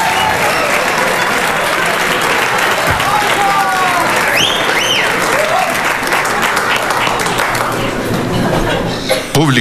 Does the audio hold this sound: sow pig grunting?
no